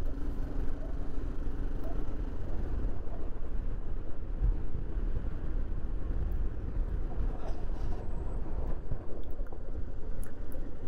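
A tractor approaches on a hillside road in a snowy mountain area, its steady low engine rumble loud and continuous throughout, mixed with wind and outdoor noise.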